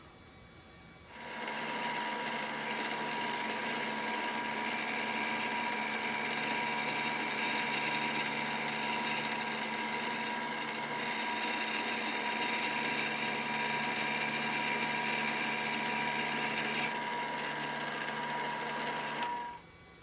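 Steady metal machining as a cutter takes chips while squaring stock for a motorcycle gas tank display stand, a continuous whirring drone with a whining tone that holds level for about eighteen seconds, then stops.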